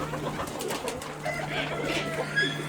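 Quail and turtle doves kept in a home breeding aviary, with soft cooing calls and faint chirps set against a steady low hum, moderately close, no voices.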